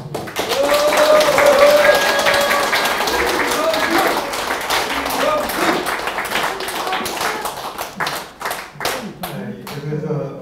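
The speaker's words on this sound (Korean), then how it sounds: "다시 한번 큰 박수 부탁드립니다" A crowd at a Korean parliamentary candidate's press conference claps loudly and briskly, then thins into scattered individual claps before dying away, with speech heard around it.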